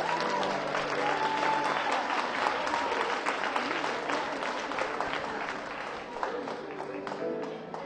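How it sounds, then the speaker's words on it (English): Applause for a primary school choir taking the stage at a music event, a large audience clapping steadily and fairly loudly, gradually tapering toward the end, with faint voices and a few tonal sounds underneath. "Give a big round of applause."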